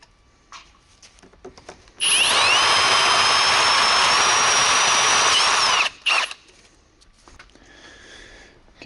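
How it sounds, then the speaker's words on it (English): A power drill runs in one steady, loud burst of about four seconds while boring a hole during an oil catch can install on a 2JZ-powered 240SX drift car, with quieter handling noises before and after. "now I just need to drill a hole."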